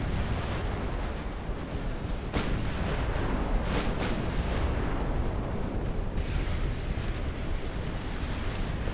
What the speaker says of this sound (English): Fire a bunch of armor-piercing rounds into the cruiser.